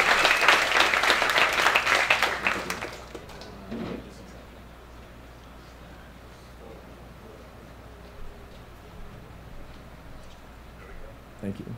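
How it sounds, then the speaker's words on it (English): Audience applause for a panelist at an evening panel talk on microdosing psychedelics: a burst of dense clapping for about three seconds, then it drops away to quiet room tone with a few faint shuffles. "So if you could give him a round of applause, please, for joining us,"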